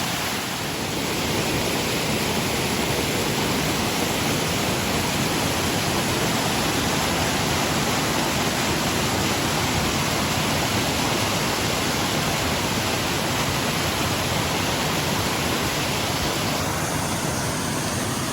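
Steady, dense roar of a waterfall in the Goat Rocks Wilderness, loud and unchanging throughout, heard from nearby.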